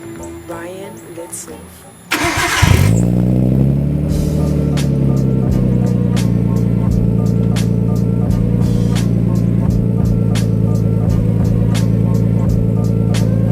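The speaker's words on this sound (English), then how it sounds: "I haven't started it yet, so this is going to be a cold start." Nissan R32 with a new ISR exhaust cold-starting: a quiet lead-in gives way to a sharp crank and catch, then a loud, steady high idle rumbling close by for the rest.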